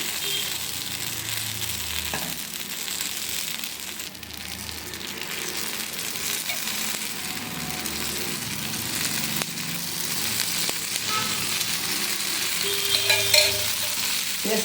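Tomato dosa batter spread thin on a pan with generous oil sizzles steadily and close up, a constant hissing fry with faint scraping moments and no voices.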